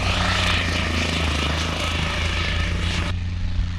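Helicopter flying over an airfield used by a nearby college's flight training course, a loud, steady rotor and engine drone heard close and continuous throughout, dropping slightly in brightness near the end.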